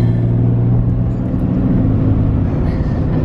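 A Ford F-150 pickup truck engine revs nearby, a loud continuous low-pitched rumble that swells slightly without a break, heard alone with no talk.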